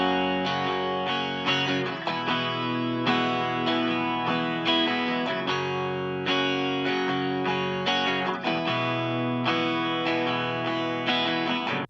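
Distorted electric guitar recording after a copied Melodyne spectrum tonal adjustment, playing rhythmic chord stabs and sustained notes with effects, loud and continuous with no voice.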